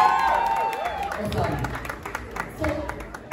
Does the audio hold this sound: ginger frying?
no